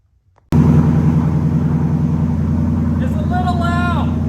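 A Ford Mustang engine fires up on a cold start, a sudden loud deep rumbling idle that holds steady and close, with a voice speaking briefly over it toward the end.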